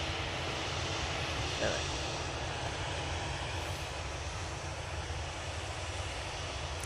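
Ryanair airliner engines at Manchester Airport, a steady broadband rumble and roar from a jet lined up for departure, sustained and fairly loud, with a brief spoken word over it.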